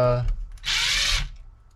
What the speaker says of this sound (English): you don't need a power drill, but you know, if you got it, use it